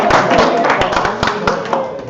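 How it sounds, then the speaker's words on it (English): Applause at a startup weekend final pitch event, audience clapping to vote for a pitch, with distinct individual claps and thumps under a wash of crowd voices. "applause,"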